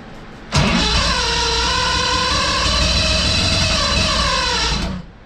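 A speed boat engine fires up after a rewiring job and runs as a loud, steady close-up roar with a rising and falling pitch for several seconds before cutting off.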